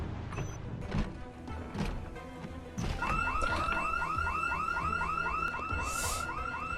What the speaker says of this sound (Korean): 경보 왜 이렇게 자주 울려